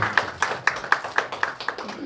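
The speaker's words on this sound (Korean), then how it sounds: "박수 부탁드리겠습니다" Audience applause at a Korean political party welcoming ceremony, a run of about nine evenly spaced hand claps, fairly close and moderately loud, with no voices over them.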